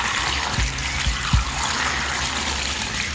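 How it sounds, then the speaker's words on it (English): Water pours and trickles into a watering can filled with stinging nettle for homemade fertilizer, a steady close splashing rush with a few low gurgling plops early on. "All I'm going to do now is I'm going to add water to my stinging nettle."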